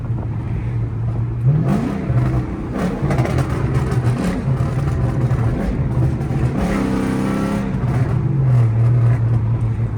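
A harsh, unmuffled exhaust from a catless, straight-piped Chrysler 300C rumbles close by, revving up and down repeatedly with crackling bursts as the throttle opens.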